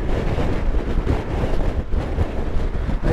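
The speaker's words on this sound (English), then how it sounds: "it's a strong wind and you spend your life leaning the bike over" Strong wind roars steadily past a BMW R1200RT motorcycle riding around Portland, Dorset, a loud, continuous low buffeting rush with no break.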